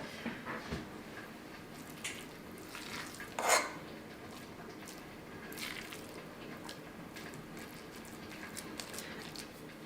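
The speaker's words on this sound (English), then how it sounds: "you're just going to take a spoon and scoop it into the pepper" A spoon scoops a soft stuffing mixture into a bell pepper, giving quiet, intermittent squishing and scraping sounds with one brief louder clink partway through, and no voices.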